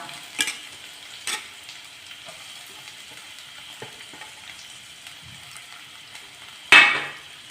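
Ginger and chopped onion sauté in a pan for a Kerala-style breadfruit curry, a soft steady sizzle with occasional stirring scrapes and one sharp utensil clatter near the end.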